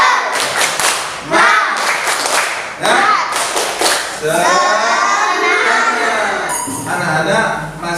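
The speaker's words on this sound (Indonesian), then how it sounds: "Yuk semua tepuk semangat." Children in a classroom perform a rhythmic spirit clap, sharp patterned hand claps and thumps alternating with chanting voices, close and loud.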